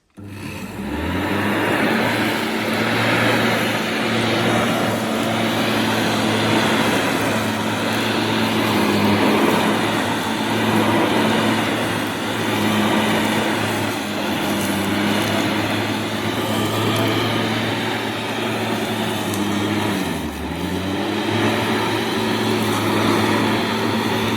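Electric hover lawn mower rated 1.4 kW cutting grass, a steady loud motor whine and blade hum running continuously with a slight dip in pitch near the end, close by, no talking.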